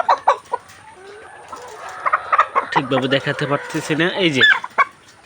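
Someone talks while a layer hen with a watery eye problem clucks nearby on a poultry farm, rising into a drawn-out, loud, wavering squawk in the middle before the voice returns.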